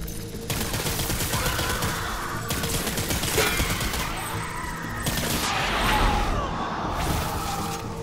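Gunfire in Death Stranding Director's Cut: loud, rapid automatic bursts crack out repeatedly over a dense, continuous combat din, with short gaps between volleys.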